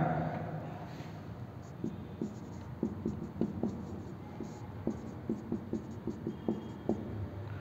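Chalk or marker writing on a classroom board during a physics lecture on gravitation, a run of short tapping and scratching strokes in irregular rhythm, close and moderately loud, with faint room noise and little talk.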